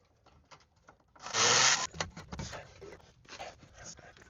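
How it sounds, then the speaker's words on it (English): A Scotch-Brite pad scrubs the inside of the bushing barrels on a BMW E36/E46 rear control arm, close, rough rubbing strokes with one long loud pass followed by shorter, softer scrapes. "I am using Scotch-Brite just to clean up the inside of the barrels"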